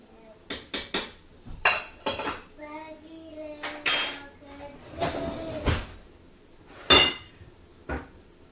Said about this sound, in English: And I will stir it just a little bit.